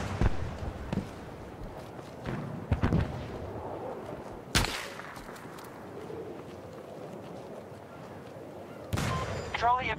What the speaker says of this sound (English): now they got rockets after me now